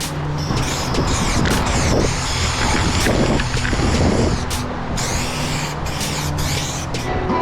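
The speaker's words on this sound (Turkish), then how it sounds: "Çok rüzgar esiyor ya" Gusty wind buffets the microphone in loud, continuous rushes, with a low mechanical hum underneath.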